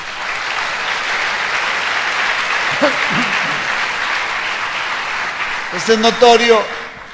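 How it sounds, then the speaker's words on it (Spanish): A church congregation gives the Lord a sustained round of applause, dense steady clapping filling the space, with a voice rising over it near the end. "Denle un aplauso al Señor, César"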